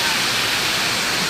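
Amritdhara Waterfall in Manendragarh, Chhattisgarh roars as a loud, steady, broadband rush of falling, splashing water with no breaks.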